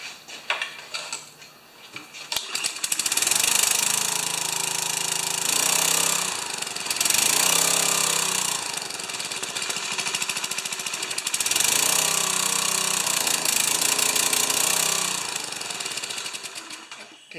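A gas engine driving a pressure washer pump runs loud and close with a rapid, knocking mechanical chatter, surging in waves as it labours and then easing off near the end.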